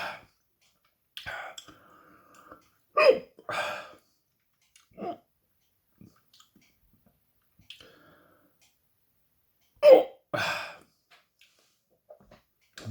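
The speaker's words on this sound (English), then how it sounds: "Hiccups." Close-up hiccups from a person, several short, sharp bursts spaced irregularly over a quiet background with pauses between them.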